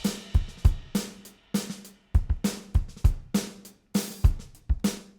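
A programmed GarageBand virtual drum kit beat loops steadily: punchy kick thumps alternate with crisp snare hits and ringing cymbals, loud and close, with no voices.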